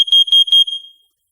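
A Nest Protect 2nd generation carbon monoxide alarm sounds during a test, giving three sharp, piercing high beeps in quick succession before falling silent, very loud and close.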